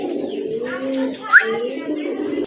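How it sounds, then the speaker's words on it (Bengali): A pair of Rajshahi Giribaz pigeons coo up close in low, rolling, throaty calls that run continuously, with a brief sharper chirp in the middle. "খুবই সুন্দর এক জোড়া কবুতর দেখার মতো কিন্তু"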